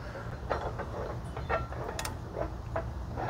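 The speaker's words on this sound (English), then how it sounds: "So let's rotate the crankshaft." An engine crankshaft is turned by hand with a wrench, giving faint, irregular ratcheting clicks and mechanical ticks over a low background hum.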